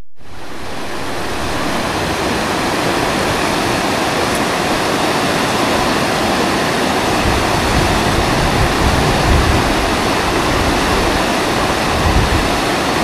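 A stream rushing where it joins the Estenilla river near the Almendrillo pool, a loud, steady wash of flowing water close by that builds within the first second and holds without pause.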